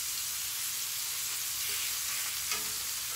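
Turkey wings browning in olive oil in a pan give a steady, bright sizzle and crackle throughout, with a brief louder spatter near the end and no talk.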